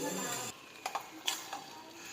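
Flattened rice (poha) goes into a hot tempering in a pan over a low flame; a soft sizzle runs beneath a few brief stirring clinks and scrapes.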